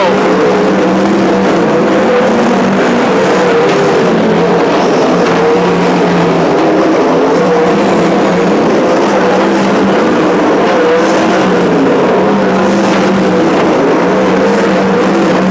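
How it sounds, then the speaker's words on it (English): Winged 360 sprint cars race at Petaluma Speedway, a loud, continuous engine roar from a pack of cars that stays steady throughout with no clear breaks. "Here's Andy Forsberg hauling through 3 and 4 with 23 down"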